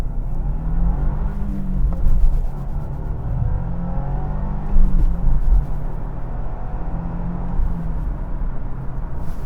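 A 2025 Subaru WRX tS is driven hard at night, heard from inside the cabin. A deep, continuous engine rumble swells in two strong surges of acceleration, with no talking.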